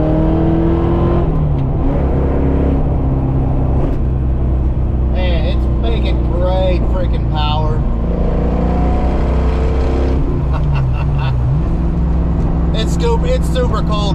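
A Fox body Mustang with a Trick Flow top end kit and Anderson cams drones and revs loudly on the road on a cold day, a steady engine note rising and falling, with voices heard in the middle.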